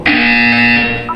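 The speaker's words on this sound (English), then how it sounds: "You will hear a buzzer." A loud, steady electronic buzzer in the video game Portal 2 drones for about a second, then trails off into a short higher-pitched tone.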